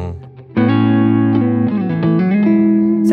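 Electric guitar with a T-style neck pickup through an Ibanez signature guitar and Laney rig, drenched in reverb: a loud sustained chord rings out, then shifting held notes and chord changes trail into a washy tail, played alone.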